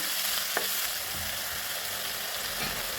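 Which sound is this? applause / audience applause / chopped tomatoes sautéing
chopped tomatoes sautéing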